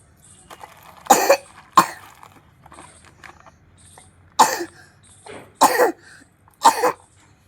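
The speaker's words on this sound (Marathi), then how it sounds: "मला पण खोकला यायला लागला." Several harsh coughs come in short bursts, a pair close together and then a cluster of three, separated by quiet pauses.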